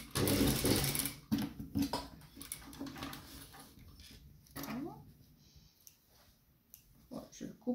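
A sewing machine with a narrow single-toe presser foot stitches an invisible zipper along a neckline, running in close mechanical bursts with clicks and pauses, while a voice talks quietly in between.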